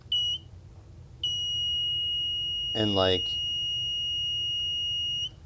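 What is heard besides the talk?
beeping alarm of a kit-built metal detector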